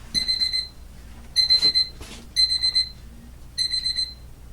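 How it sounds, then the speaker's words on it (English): A medicine reminder alarm beeps in four bursts of rapid, shrill electronic tones, evenly spaced and fairly clear, with no talk. "Medicine alarm, of course. I thought for sure I had turned that off."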